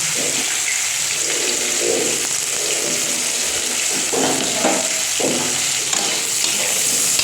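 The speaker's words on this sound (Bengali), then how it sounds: "তো কড়াই গরম হয়ে গেছে, এর মধ্যে কিন্তু আমি তেল দিয়ে দিয়েছি। তো এবার এর মধ্যে দিচ্ছি কিছুটা পেঁয়াজ আর কাঁচা লঙ্কা।" Onion and green chilli dropped into hot oil in a wok, a loud, steady sizzle and bubbling that stays dense throughout, with a few soft stirring scrapes and no talking.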